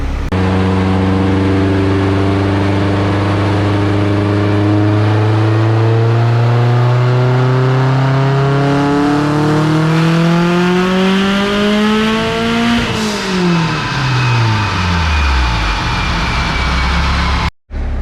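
A hybrid-block Subaru WRX on a dyno at wastegate-spring boost, its engine climbing steadily through a long, loud full-throttle pull, then dropping off sharply as revs fall before a brief cutoff, with no talk.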